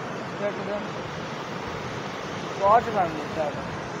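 Water rushes through a dam in a steady, loud roar, with a brief squeal or voice rising over it near the end.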